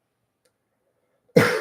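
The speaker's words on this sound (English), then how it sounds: "Why am I getting a cough today," A man gives a single sudden cough, close and fairly loud, after more than a second of near silence, the burst trailing off at the very end.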